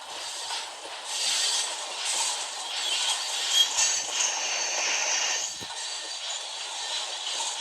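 A passing train gives off a steady, fairly distant rumble and hiss of wheels on rails that swells slightly and holds for the whole stretch, with no voices.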